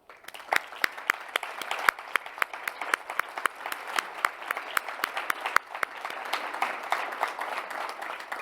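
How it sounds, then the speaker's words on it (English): A conference audience applauds steadily, many hands clapping in a dense, sustained burst with a few sharper claps standing out. "each of you deserves a round of applause"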